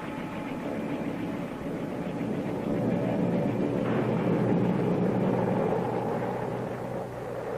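A big cargo aircraft at Khe Sanh in 1968 gives a steady, rumbling engine drone that swells a little in the middle, continuous and moderately loud with no voices.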